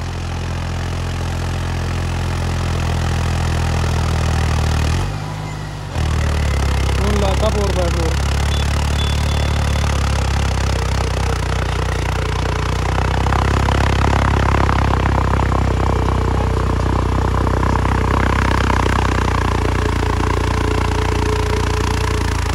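A Deutz Fahr 70 hp tractor engine runs steadily with 4x4 engaged, giving a continuous low droning rumble. It dips briefly once, then holds level throughout, with voices faintly present alongside.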